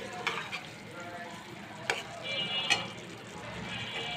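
Dry-roasted cumin goes into a pan of frying bata fish bhuna with tomato and onion: a quiet, steady sizzle with a few soft stirring clicks.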